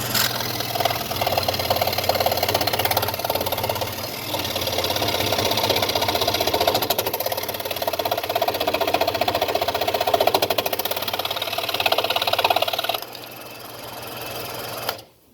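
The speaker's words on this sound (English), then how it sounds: "So let's take this over to the scroll saw and take the tuner with us." A scroll saw cuts the end off a wooden flute, a steady rapid buzzing chatter of the reciprocating blade running continuously and close, fading out as the motor stops near the end.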